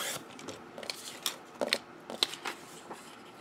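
Scissors snipping paper for a binder envelope pocket, a series of close irregular crisp cuts and rustles over a few seconds.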